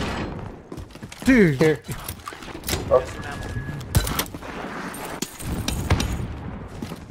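Gunfire in the battle royale game Call of Duty Warzone cracks out in a few sharp, scattered shots at varying distance, heard under excited voices of players talking over each other.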